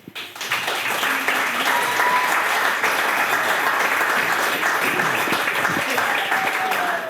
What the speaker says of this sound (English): A round of applause for the beautiful bridal party, everyone